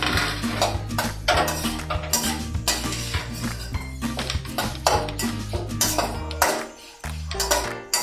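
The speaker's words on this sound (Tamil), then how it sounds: "இப்போ வந்து ஒரு கொத்து கருவேப்பிலை போட்டிருக்கேன். இதையும் ஃப்ரை பண்ணி மேலே தூவிக்கலாம்." Curry leaves fry in a pan for banana flower chilli, with steady sizzling, repeated metallic clinks and taps of a utensil against the pan, and a low steady hum underneath.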